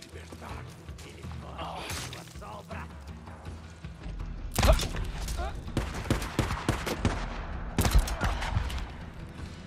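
Sharp bursts of rapid gunfire from the video game Days Gone crack through a busy mix of game noise, with a voice speaking intermittently throughout.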